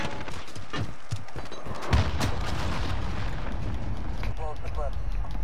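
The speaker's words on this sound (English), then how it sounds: "Enemy cruise missile incoming." Enemy cruise missile explosions in Call of Duty: Modern Warfare, loud, dense bursts of blasts and gunfire with one heavier boom midway, mixed with game voices and player talk.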